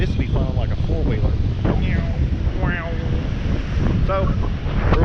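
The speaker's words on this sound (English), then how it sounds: "it's windy" Strong wind at a beach in North Ormond on the A1A coast, roaring and buffeting the microphone with a loud constant rush while someone talks over it.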